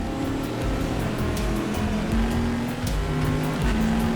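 Race car engines roaring past in rFactor 2 during a rainy 6 Hours of Suzuka race, with a Porsche prototype among them, a loud continuous engine drone with shifting pitch and spray hiss, no talk.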